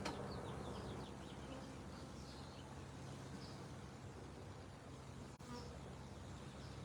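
Honeybees drone steadily at a recently split, not-yet-strong hive, with a continuous low hum and scattered buzzing bees close by, carrying through the whole stretch without talk.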